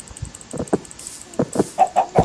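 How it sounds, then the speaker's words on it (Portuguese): Chicken in a block-based video game clucking in short choppy bursts, a few quick cluck sounds near and clear with small gaps between them. "Tem uma galinha aqui num lugar muito legal."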